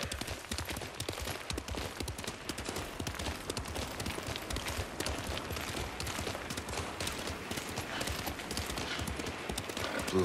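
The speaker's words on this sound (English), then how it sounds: "You're a good horse, Noble." A horse gallops in the video game Ghost of Tsushima with steady, rapid clip-clop hoofbeats throughout, moderately loud and close, along with some game background noise.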